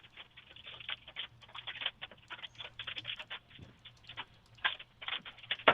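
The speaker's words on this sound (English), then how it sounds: "Just all the hail falling, kicking up a lot of dirt." Large hail, about two inches across, falls during a severe storm, striking the ground and kicking up dirt in a dense, irregular patter of sharp ticks that swells and thins over several seconds.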